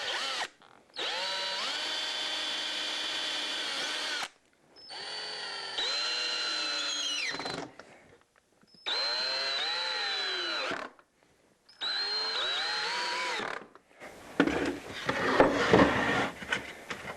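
A power drill drives screws into a wooden mold template for an LMI side bender. It runs in four separate whining bursts of a few seconds each with short pauses between them, then a rougher rattling burst at the end.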